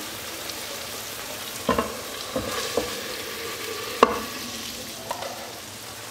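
Kavurma meat cooks on the stove in a pan, giving a steady frying sizzle with occasional clear knocks and scrapes of a stirring utensil against the metal.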